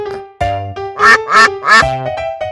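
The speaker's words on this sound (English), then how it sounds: "Duck." A duck gives three loud, nasal quacks in quick succession, near and clear over a soft musical backing.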